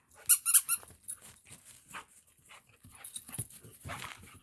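A puppy chases a squeaky toy outdoors, with several sharp, loud squeaks early on, followed by panting, snuffling and light growling close by and further scattered squeaks.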